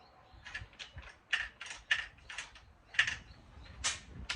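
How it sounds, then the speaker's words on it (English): Lokklatch Deluxe gate latch on double gates clicking repeatedly as it locks and unlocks, a series of small, fairly faint metallic clicks and rattles at an uneven rhythm, close by, with no talking. "Now when you lock it and unlock it, you'll hear that click sound"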